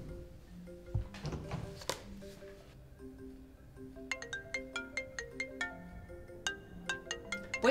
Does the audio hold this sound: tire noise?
no